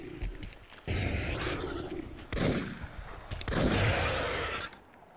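Gunfire in the online horror game Deceit: several loud, sharp shots burst out one after another over a rumbling game backdrop, with no talking.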